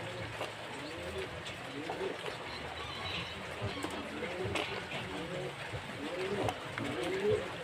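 Pigeons coo softly in a loft while being treated for a one-eye cold, low burbling calls rising and falling at a distance beneath faint background noise and occasional movement.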